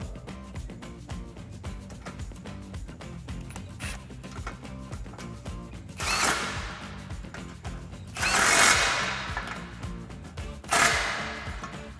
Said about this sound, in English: Now we can go ahead and tighten up the clamp on the passenger side using our 15mm socket